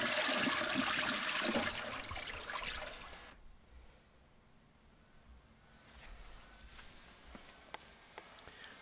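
Water rushes loudly into an up-flush toilet, then drops after a few seconds to a quiet, continuous trickle with faint drips as the bowl slowly fills.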